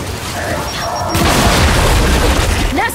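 Frag grenade blowing up an enemy nest in Gears 5, a sudden loud boom breaking in about a second in, followed by a sustained rumbling blast and debris.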